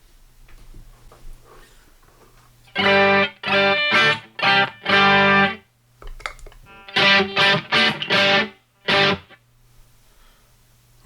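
Heavily distorted electric guitar through a Boss DS-1 pedal plays loud chord stabs in two bursts, with clipped, gritty sustain and brief silences between phrases.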